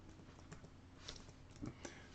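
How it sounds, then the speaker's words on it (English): Soft keystrokes on a computer keyboard while entering Lua code in Roblox Studio, a few scattered taps and a firmer pair near the end, quiet and close amid faint room noise. "So I'm going to type it out, hit enter"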